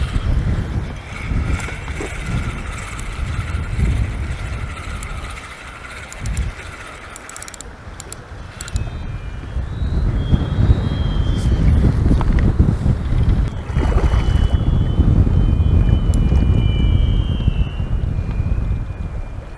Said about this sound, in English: Wind's dropped a fraction.